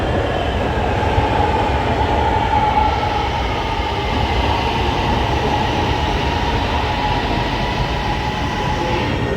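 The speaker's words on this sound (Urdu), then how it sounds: "یہ ٹرین آ گئی ہے جی، جس کے اوپر میں نے جانا ہے نا وہ آ گئی ہے." A train pulls into a station platform with a continuous loud rumble and rolling wheel noise, faint squeal tones riding above, steady and close for the whole stretch with no voices.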